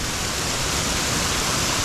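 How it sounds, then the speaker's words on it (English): Leaning Log Falls on Adkins Creek in Arkansas pours in a steady, loud broadband rush of falling water, close and continuous with no voices. "This is Leaning Log Falls on Adkins Creek."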